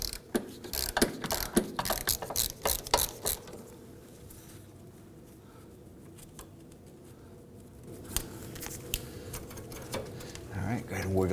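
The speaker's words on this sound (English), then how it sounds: "We're going to use our socket, our extension, and our ratchet to go ahead and get in there," A socket ratchet with an extension clicks rapidly while loosening a 12 mm bolt on a 2005-2009 Subaru Legacy 2.5L H4 fuel tank job, close-up bursts of pawl ratcheting, pausing midway, then resuming with rustling under a voice.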